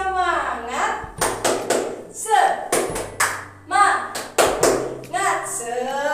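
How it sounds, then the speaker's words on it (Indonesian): A school class joins in a rhythmic tepuk semangat clapping chant, sharp patterned bursts of hand claps alternating with a teacher's and children's voices calling out between the beats. "Sekarang tepuk semangat dulu yuk biar pada semangat semuanya dalam pelajaran."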